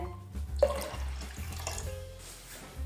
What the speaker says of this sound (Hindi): इसके अंदर और पानी डालूंगी मैं।